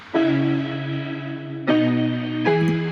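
A synth chord patch heavily squashed by OTT multiband compression, three sustained, bright, buzzy chords played loud and close, each held and then retriggered with a sharp attack, with no voices.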